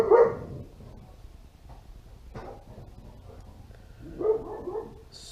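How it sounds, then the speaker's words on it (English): A dog barks outside in short bursts, one at the start and a cluster near the end, moderately distant over a quiet background. "my dog's out there going nuts"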